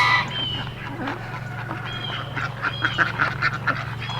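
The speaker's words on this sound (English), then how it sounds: "if you've never heard a goose in slow motion, this is gonna be a treat." Drawn-out, warbling goose honks stretched low and slow, repeating over a constant background hum with some scattered rustling.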